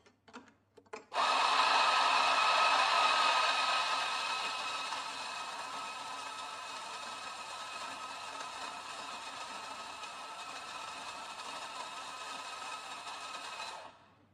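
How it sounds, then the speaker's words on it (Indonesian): A Ferratti Ferro FGM 64 espresso grinder grinds coffee beans, a loud, steady whirring drone that starts abruptly, eases slightly after a few seconds, then holds until it cuts off near the end. "Terus kita coba giling."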